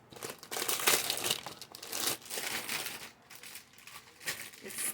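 Crinkly wrapping on a perfume box being unwrapped, a busy, close run of crackling and rustling with a few sharper tearing bursts, steady throughout with no talking.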